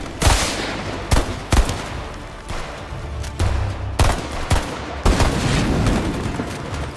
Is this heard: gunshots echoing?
yes